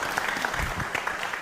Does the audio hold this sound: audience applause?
yes